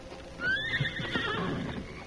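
A horse whinnies loudly in a radio drama effect, a rising neigh followed by hooves clip-clopping and shuffling close by.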